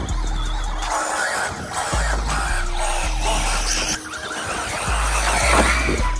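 An Arrma Big Rock 223s RC truck ripping along in rear-wheel drive, its motor whining and surging continuously with shifting pitch and gritty tire noise, loud and close.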